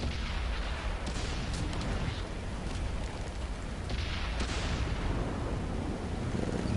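Artillery fire in World of Tanks, a continuous loud rumbling barrage with a few sharper booms breaking through, dense and unbroken throughout.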